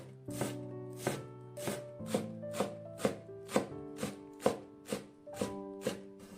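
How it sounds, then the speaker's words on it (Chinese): A knife finely chops Chinese chives on a cutting board, about a dozen crisp, evenly spaced knocks close by with a ringing tone between strikes, no voices. "再把韭菜尽量切得碎一点"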